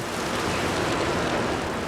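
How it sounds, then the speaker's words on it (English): Heavy rain pours down near a 7-Eleven in Asia, heard from under an awning as a dense, loud, unbroken hiss with no pauses. "it's raining harder than I've ever seen it rain since I've been traveling around Asia"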